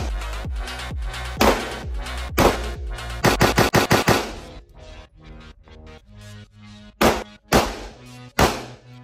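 Pistols fire at a shooting range in loud, close bursts: quick strings of rapid shots, a flurry of fast trigger pulls, then scattered single and paired shots with ringing decays.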